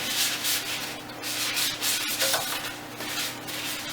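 Steady rubbing and scrubbing on a cast iron skillet during restoration, a continuous close-up abrasive swish with rhythmic strokes and no voices.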